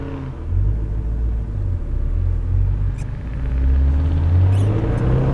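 A Shelby Ford GT350 with a Steeda IRS subframe brace pulling at wide open throttle from inside the car, a deep loud engine rumble that climbs in pitch as it revs, steady and close.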